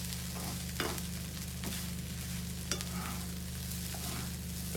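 Egg fried rice with pak choi frying in a pan: a steady low sizzle runs throughout, punctuated by a few sharp scrapes and knocks of a utensil stirring the rice, close and fairly quiet with no talking.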